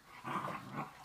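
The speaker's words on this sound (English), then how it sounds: "There's a lot of barking and chewing and" Faint, low growls and muffled barks from Otterhound puppies in a yard, a short, rough burst heard from a little distance.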